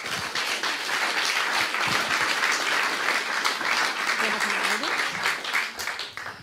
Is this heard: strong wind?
no